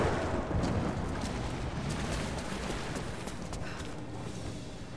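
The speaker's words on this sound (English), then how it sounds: "the thunder is making it more spooky" A deep, rolling rumble of thunder in the video game Rise of the Tomb Raider that swells at the start and slowly fades, with faint crackling detail on top and no voices.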